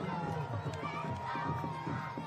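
Spectators line a cycling race course, a steady murmur of a large outdoor crowd with scattered shouts and children's voices, heard under a commentator's voice.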